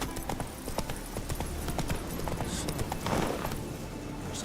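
Horse hooves clip-clop at a steady trot in the video game The Witcher 3, a continuous close rhythm of even beats that carries through the whole stretch with no talk.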